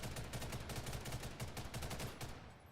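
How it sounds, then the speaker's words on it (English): Rapid bursts of automatic gunfire in the Ghost in the Shell: First Assault video game, a steady rattling string of close shots for over two seconds, then a quick fade with no talk. "Now, if I'm firing like quick bursts,"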